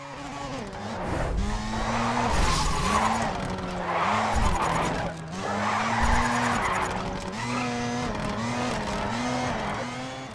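A Mazda RX7 drifting downhill on Mount Haruna in the racing game Race Driver GRID: loud, continuous engine drone that shifts pitch through the corners, with repeated bursts of screeching tire skids.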